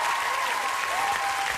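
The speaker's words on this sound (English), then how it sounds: "Round of applause for our judges." A television studio audience applauds the judges on The X Factor companion show, a dense steady wash of clapping and cheering that fills the whole moment without letup.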